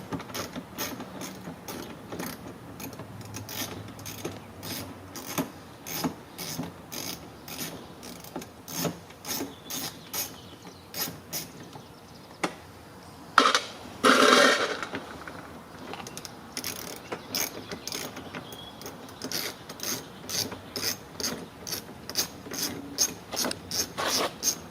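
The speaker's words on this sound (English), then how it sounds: "you can see we need to remove that bolt there" A ratchet works loose a front bumper cover mount bolt on a Lincoln MKX, with rapid repeated pawl clicks in steady runs and a brief louder metallic clatter midway, close and without talk.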